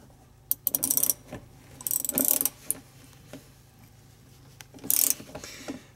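Ratchet tightening down a seat belt bolt in a Jeep YJ/CJ, three loud close bursts of rapid clicking separated by short pauses.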